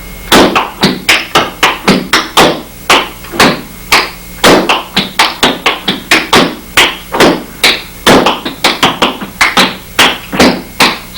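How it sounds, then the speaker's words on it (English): Flatfoot dance steps on a hard wooden floor: a steady, loud run of sharp taps, scuffs and flat-footed stomps in a repeating three-count pattern, with no voices. "scuff, pop, flat with this rhythm"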